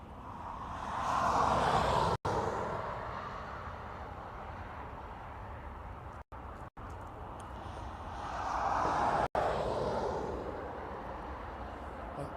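At Dublin Airport, an Etihad aircraft lines up. Its distant engine roar swells, fades and swells again, with a few brief dropouts and no talking.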